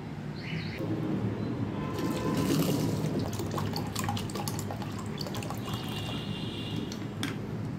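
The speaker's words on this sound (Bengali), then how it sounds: "মটর ডালকে ভালো করে জল দিয়ে দুবার ধুয়ে নেব।" Split peas (motor dal) are swished and rinsed in water in a kitchen, a steady close splashing and trickling with scattered drips and faint birdsong in the background.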